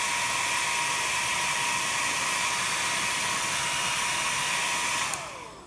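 A hair dryer blows loud and steady close by, heating craft foam for homemade stamps, then switches off and winds down in the final half second.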